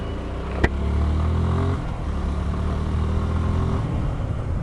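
A motorcycle ridden along a road, its engine drone steady and close with a continuous rumble and wind, one sharp click near the start and a slight change in pitch midway.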